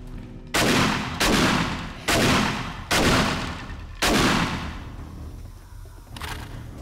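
Gunfire in the video game 7 Days to Die: five loud, booming shots fired at roughly one-second intervals, each with a lingering tail, then a fainter final shot.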